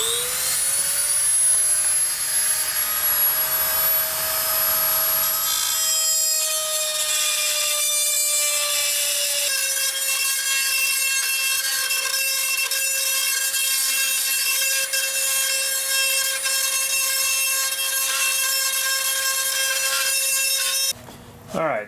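A high-pitched rotary power tool whines steadily while cutting a bigger radio opening in a Dodge Ram dash, its pitch shifting slightly as it bites, ending with a brief clatter.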